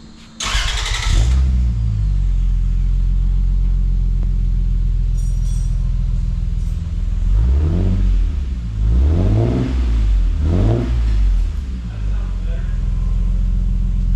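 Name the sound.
car engine starting with new exhaust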